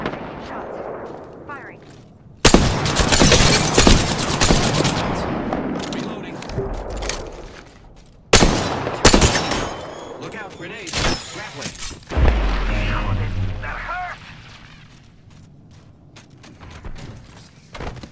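Repeated bursts of gunfire from the video game Apex Legends, loud and close, with heavy volleys and booms coming in several clusters, separated by quieter stretches where game callouts and a voice are heard.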